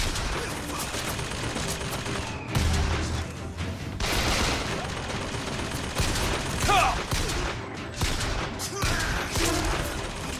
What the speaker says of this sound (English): Looks like that machine gun turret was trying to shoot me.